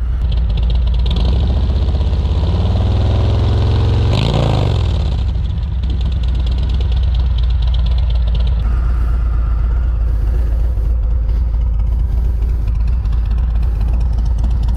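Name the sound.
2019 Harley Road King idling with Rinehart DBX45 slip-on exhaust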